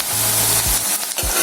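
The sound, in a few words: chival greens added to sautéed onion, frying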